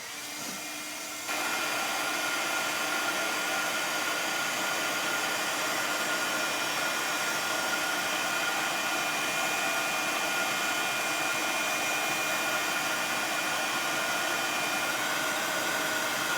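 A heat tool warms embossing powder with a steady, loud, airy whir that starts after a brief moment and then runs on without a break, hair-dryer-like, with no talking.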